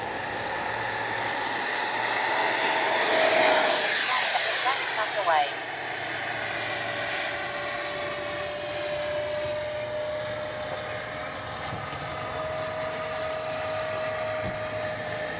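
A Freewing 90mm EDF F-15C RC jet takes off, its ducted fan rising to a loud, steady whine that swells as it passes close and then fades into a sustained, farther drone while someone talks over it.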